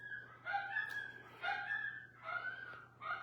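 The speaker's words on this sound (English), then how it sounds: "The dogs are going crazy." Several dogs bark and yip excitedly in a few loud bursts close by, with whimpering tones between barks and a low steady hum underneath.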